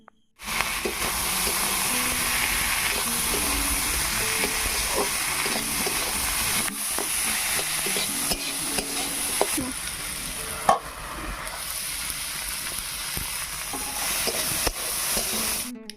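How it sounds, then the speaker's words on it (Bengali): Figs fry in a pan of cooked-down spiced masala, a loud continuous sizzle with scraping and stirring strokes throughout, close and busy. "একবার কষানো মশলার মধ্যে ডুমুরগুলো দিয়ে দেওয়া হলো।"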